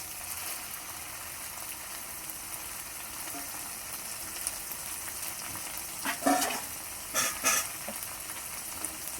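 Marinated chicken frying in a reddened spice masala, a steady close sizzle with louder bursts of crackling and stirring toward the end.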